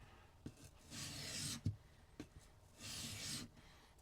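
A sloyd knife blade is drawn across sharpening stones while working through the grits, giving two long, soft rasping strokes with lighter scrapes and small taps between them, close and fairly quiet.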